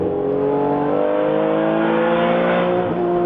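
Porsche 935 race cars at a vintage race, engines holding a steady loud rising whine with harmonic revs as they pass close by, with no talk.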